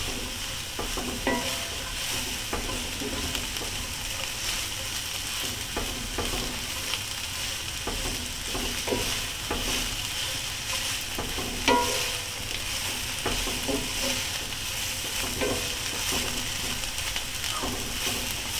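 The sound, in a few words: chorizo and eggs frying and being stirred in a pan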